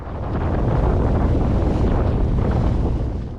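Strong, raging wind buffets a boat near a bridge while it approaches a mooring ball, a steady loud roar of gusting air and microphone buffeting with no talk.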